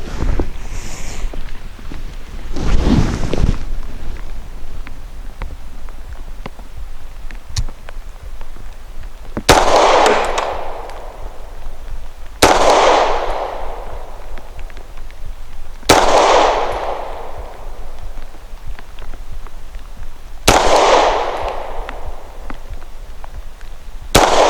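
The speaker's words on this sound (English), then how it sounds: "starting off with the alpha, 5 shots from 7 yards" Five loud, sharp pistol shots from a Lionheart Regulus Alpha fired at an indoor range from 7 yards, spaced a few seconds apart with brief decays and low background noise between them.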